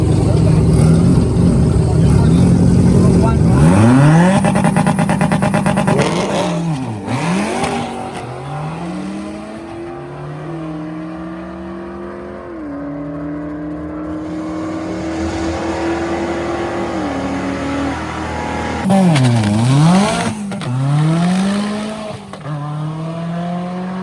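A souped-up Ford Fiesta drag car on nitrous and drag wheels screams loudly through rising gear pulls, with sharp shift breaks, then fades as it runs away and returns with more high revs; people talk over it.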